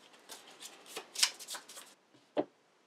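Cards from a deck-building board game are shuffled in a quick, soft flurry of riffling flicks lasting about two seconds, followed by a single sharp tap, quiet and close.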